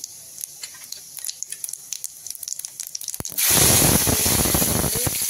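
Cumin and mustard seeds hit hot oil and burst into a loud, sudden sizzle that crackles and spits steadily for the last couple of seconds, close up, after quieter kitchen clinks.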